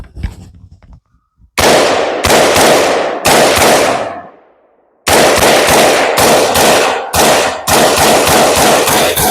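A gun being fired outdoors, a rapid series of about ten loud, sharp blasts in quick bursts, each with a short ringing decay, one followed by a longer fading echo before firing resumes.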